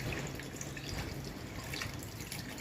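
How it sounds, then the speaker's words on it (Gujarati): Water pours from a glass into a container of seeded lychee fruit for juice, a steady close splashing trickle that runs for the whole stretch without any talk. "હવે આમાં આપણે એક ત્રોફાનું પાણી નાખી દઈશું।"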